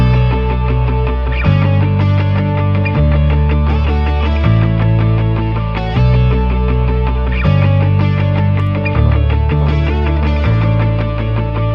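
A loud punk rock guitar loop with distortion repeats a short chord pattern, with the low notes shifting every second or two and no voices.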